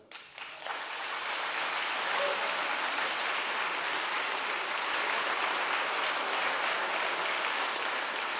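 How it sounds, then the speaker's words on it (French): Graduates at a French diploma ceremony applauding, a dense, steady burst of clapping from a large indoor audience that swells quickly and holds evenly throughout. "Je vous demande simplement de vous applaudir."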